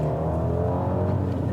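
An Alfa Romeo MiTo engine held at sustained revs while driving, a loud, steady in-cabin drone with a constant low hum and no break or gear change.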